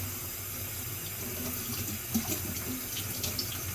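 A tap runs steadily as the leaves of an African violet are rinsed, a close, continuous rush of water with a few small splashes and no speech.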